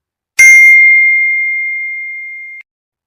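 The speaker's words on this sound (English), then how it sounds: "Now one sound will come, one bell sound will come." A single meditation bell rings out clearly, one bright struck tone that sustains as a pure ringing note and fades slowly over about two seconds before cutting off, with silence around it.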